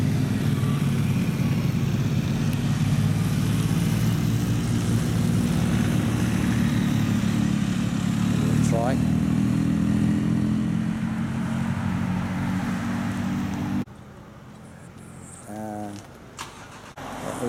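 Honda Goldwing and BMW touring motorcycles rumble steadily nearby in Tasmania, then the engine noise cuts off abruptly and a quieter scene with a brief voice follows.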